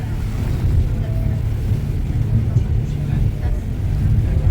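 A speedboat runs at speed on choppy open water on the way to Pulau Pari, its engine a loud, steady drone mixed with the rushing hiss and splash of wave spray and buffeting wind throughout.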